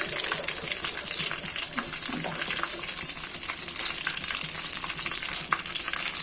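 Chicken bread rolls fry in hot oil in a kadai, giving a steady, dense crackling sizzle with scattered sharp pops throughout, close and alone with no talking.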